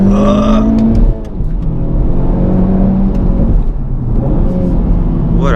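A 2018 Honda Civic Type R, front-wheel drive, is driven hard with its engine revving: a steady, loud mechanical drone with rising and falling pitch continues throughout, with only faint traces of voice.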